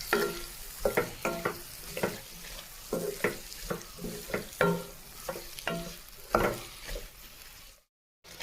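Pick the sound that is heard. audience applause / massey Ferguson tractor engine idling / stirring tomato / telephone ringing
stirring tomato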